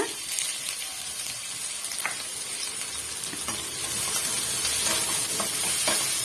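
Onions sautéing in a pan for chana masala gravy give a steady close-up sizzle with scattered crackles and a few scraping stirs, growing slightly louder toward the end, with no talking.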